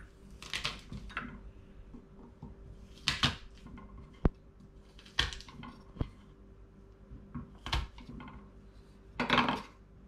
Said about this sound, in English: I got 3 cloves of garlic, just crush it.